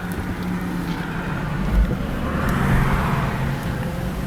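A Honda car with a 3.5 engine, just serviced with a new timing belt and water pump, drives on the road, a steady interior rumble of engine and road noise with a swell of wind and tire hiss.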